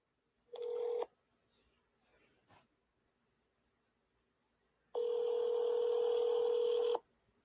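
A phone keypad sends a short dialing tone burst, and then a long steady tone about two seconds long follows after a quiet gap, clear and close with no talking.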